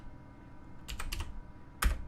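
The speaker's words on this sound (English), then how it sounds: "spacebar, just start typing in bridge" Soft keystrokes on a computer keyboard during Blender modeling work, a few quick clustered taps followed by a sharper keypress, close and quiet with no talk.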